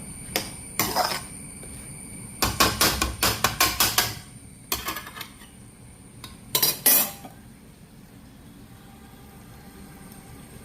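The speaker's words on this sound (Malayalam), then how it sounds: "ഒന്നുകൂടെ ഇളക്കുക." A spoon scrapes and clinks against a metal pot of aviyal in quick bursts of stirring, separated by quiet pauses.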